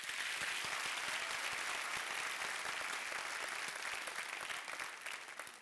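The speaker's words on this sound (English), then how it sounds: "Can I request a round of applause?" A crowd applauds steadily for several seconds at a university graduation ceremony, dense clapping that fades slightly at the end.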